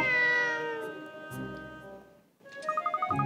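A cat in the video game Layton's Mystery Journey gives a couple of clear, close meows, followed by a short rhythmic pulsing tone at the end.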